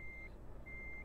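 Reversing beeps from a heavy goods truck in Euro Truck Simulator, set in Scandinavia, sound as a steady electronic tone that cuts out and returns over a low engine rumble, faint and alone.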